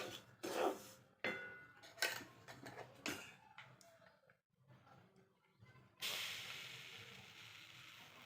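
Semolina (rava) being roasted in a pan for a ripe banana recipe, with a series of scraping and clinking strokes of a utensil against the pan, then a steady sizzling hiss near the end.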